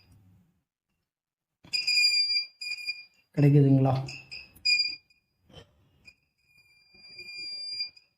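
A multimeter's continuity beep sounds while the heating fault on an SMD rework station is traced: several short, bright electronic tones separated by gaps, and one steadier tone near the end, with someone speaking in between.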